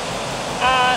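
A river flowing below a wall at the edge of a steep drop: a steady, loud rush of water close by, with a brief tonal sound rising over it near the end.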